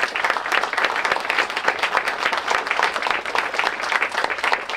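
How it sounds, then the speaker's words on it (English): Sustained applause from a community audience at an outdoor ribbon-cutting ceremony, dense steady clapping throughout, loud and close with no voices over it. "Let's give them a big round of applause"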